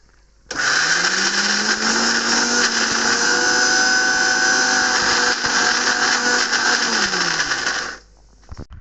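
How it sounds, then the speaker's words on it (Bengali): A mixer grinder grinding boiled peas whirs loudly and steadily for several seconds before switching off, its motor winding down, with no voices. "তারপর আমরা এটা মিক্সিতে বেটে দেবো"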